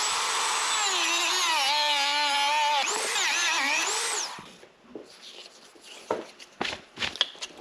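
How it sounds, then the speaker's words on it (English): Corded rotary tool with a cutting wheel slicing through PVC pipe during Honda Grom fork seal work: a steady high-pitched whine for about four seconds, bending in pitch as it bites, then stopping and giving way to scattered clicks and handling noises. "Hopefully that'll make less of a mess cutting the PVC."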